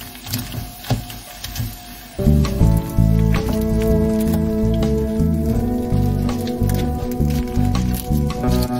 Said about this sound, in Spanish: Vamos a aplastar las cabezas para que saque todo el jugo